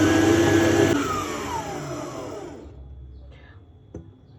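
An electric mixer kneading mochi donut dough runs as a steady loud whir that shifts pitch, then cuts off, leaving quiet with a faint clink near the end.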